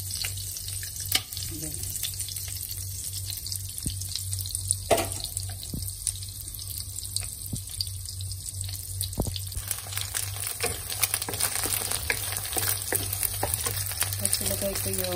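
An egg frying in butter in a pan, a steady crackling sizzle mixed with running water from a tap and occasional clinks, while a voice briefly speaks.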